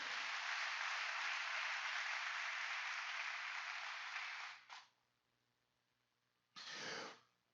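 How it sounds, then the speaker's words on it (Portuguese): Congregation applause at a church service, a loud sustained wash of clapping that fades out, a short pause, then a second brief burst near the end. "Dê uma salva de palmas para o Senhor Jesus."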